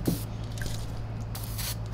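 Short hissing bursts of WD-40 water displacer sprayed from a can during a SEBO Airbelt C3.1 canister vacuum cleaner repair, close and fairly loud, with a few small wet drips between sprays.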